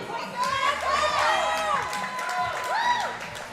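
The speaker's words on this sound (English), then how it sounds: "Give me a round of applause for Kwaku." A powerlifting meet crowd at the CPU Western Championships cheers and whoops loudly for lifter Kwaku's Canadian national record attempt of 772.7 pounds, with rising yells over steady crowd noise.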